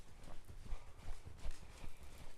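Hooves of a ridden horse clip-clop in a steady, even walking rhythm, a run of soft thuds close by and fairly quiet, with no voices over them.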